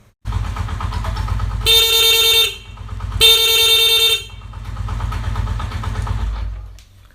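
Two loud, sustained horn honks sound one after the other over the steady rumble of an idling Honda CD 70 motorcycle engine.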